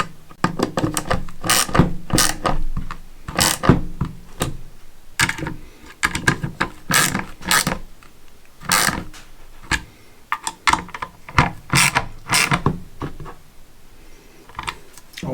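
Ratchet wrench snugging down bolts on a Ford 6.0 diesel FICM: rapid clicking pawl bursts repeated steadily, close and loud, with brief pauses between strokes.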